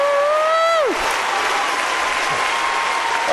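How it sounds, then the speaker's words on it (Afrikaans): A church congregation applauds loudly and steadily, dense hand clapping filling the room after a brief sung phrase at the start, continuing without a break to the end. "Kom ons gee die Here 'n lekker hande klap vandag."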